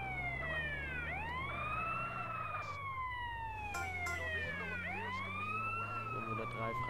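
Wailing ambulance siren from GTA San Andreas, sweeping up and down in repeated cycles, loud and close over a low rumbling engine, with faint voices underneath.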